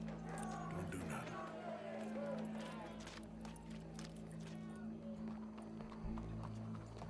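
Horse in the video game Red Dead Redemption 2, with quiet clip-clop hoof steps and a possible brief whinny under a steady low game-background drone; voices are also present.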